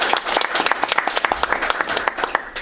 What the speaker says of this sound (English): I'll lead the applause for that.